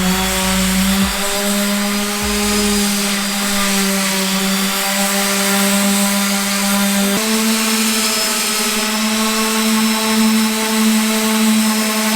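A power sander grinds glossy clear coat off an old wooden dresser, a loud, steady motor whine with a constant hum that shifts pitch slightly midway, no talking.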